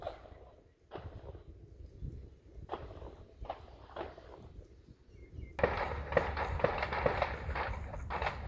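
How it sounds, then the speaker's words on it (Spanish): Gunfire near the Gaza Strip border: scattered sharp cracks ring out a second or so apart, then a denser, louder burst of rapid shots follows, fairly close and with no voices. "Esto que se escucha son disparos."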